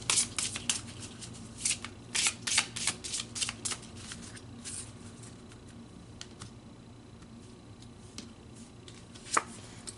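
Tarot cards are shuffled close up in bursts of crisp riffling and tapping, busy at first, then sparser with a final sharp snap near the end.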